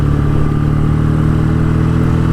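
A BSA A10 Super Rocket motorcycle engine runs at a field display, a loud, steady, close-up idle with a low, even mechanical throb and no voices.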